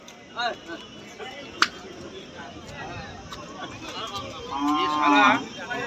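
Cattle at a busy rural cow and buffalo market in West Bengal, one drawn-out moo rising near the end, with other animal calls and people talking in the background throughout.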